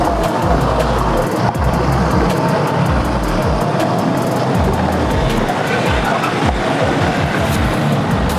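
Trucks and cars creep slowly over a bumpy road beneath a flyover in traffic. A continuous, loud engine and tyre rumble with low churning surges fills the whole stretch.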